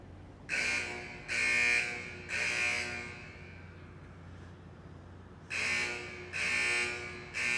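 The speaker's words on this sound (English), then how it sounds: "the alarm is coming from that garage." Alarm sounding from a garage: faint, shrill electronic buzzer bursts of about half a second each, repeating in two groups of three with a pause between, heard from a distance.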